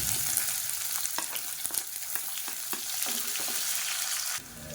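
Long-sliced onion, a big medium-sized one added with curry leaves, sizzles steadily in hot oil for masala coconut rice, a close continuous crackle broken by occasional scrapes and taps of stirring.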